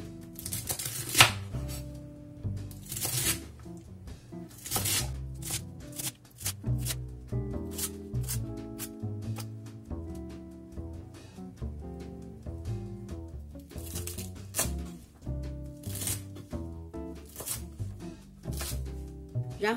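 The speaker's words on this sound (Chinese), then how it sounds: "洗净后我们把它切成一小段一小段" A knife chops washed celery into short pieces on a board, with rapid, repeated close-up chopping taps heard under continuous background music.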